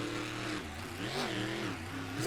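Monster truck engine revving hard in a freestyle competition in Atlanta, a loud continuous roar with pitch rising and falling as the throttle is worked, amid broad crowd and arena noise.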